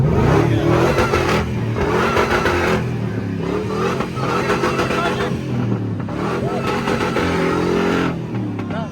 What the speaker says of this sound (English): You hear that supercharger on, man?